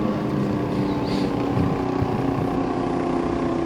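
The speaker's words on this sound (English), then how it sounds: "Nitrous fed KTM." Nitrous-fed KTM 500 LC4 drag racing motorcycle making a pass at a drag strip, heard as a steady loud engine drone with broad rumbling texture and no talk.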